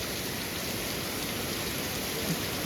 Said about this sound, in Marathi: जाम घाण पाऊस पडते जाम हवा पण अशी सुटले